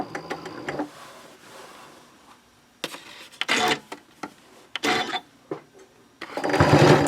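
A sewing machine stitches the top band of a reversible fold-flat shopping tote, running in several short bursts separated by pauses, with a longer final run as it goes back over earlier stitches.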